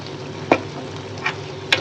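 Curry is stirred in a hot pan with fish oil, a spatula scraping the pan in three sharp, distinct strokes over a steady low sizzle.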